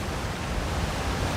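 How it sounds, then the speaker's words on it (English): Steady, rushing broadband roar of a waterfall in The Elder Scrolls Online, Apocrypha, continuous and fairly loud with no break. "Behind the waterfall."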